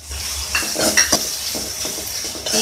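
Turmeric and curry leaves frying in hot oil for girmit masala puffed rice, a close steady sizzle broken by a few sharp clinks and scrapes of a spoon against the pan.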